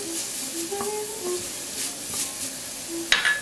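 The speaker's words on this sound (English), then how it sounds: "Saute them up good." Chopped garlic cloves sautéing with sautéed peppers and onions in a pan, a soft steady sizzle with faint stirring clinks, one sharp utensil scrape near the end.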